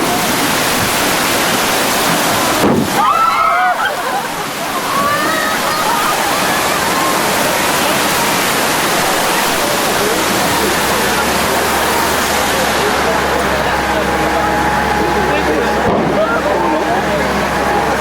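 Loud rushing water effect on a theme park tram ride through the Red Sea, a dense continuous roar that surges on for the whole stretch, with a low rumble joining partway through.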